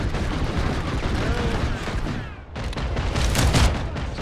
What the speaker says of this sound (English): I can tell you we're taking gunfire